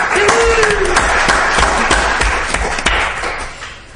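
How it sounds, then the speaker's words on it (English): A crowd at a town selectmen's meeting breaks into applause, steady clapping with a few louder thuds, tapering off toward the end. "Yes, a round of applause."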